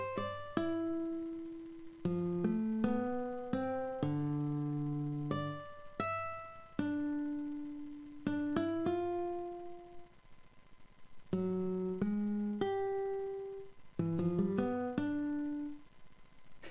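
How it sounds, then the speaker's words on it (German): Plucked nylon-string guitar notes from a software plugin ring out one after another in loose, wandering phrases, soft and clear with no voices. "Also hier die Nylon-Gitarre, die hört sich wie folgt an."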